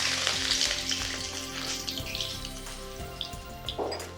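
Finely chopped garlic and ginger sizzle in hot oil for Schezwan chicken fried rice, a steady loud crackle throughout with sharp spattering pops and faint metallic clinks, no voices.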